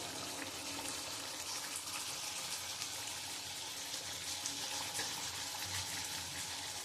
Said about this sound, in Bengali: নামানোর আগে আমি একটু ঘি দিয়ে দেবো উপর থেকে।